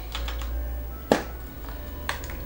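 A Campark X20 4K action camera being opened, heard as a few soft plastic clicks and one sharper snap close by, with a low steady hum underneath and no talking.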